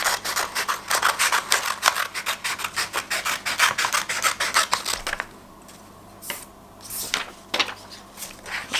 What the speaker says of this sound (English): that tells me which bit I need to cut off to make my paper into a square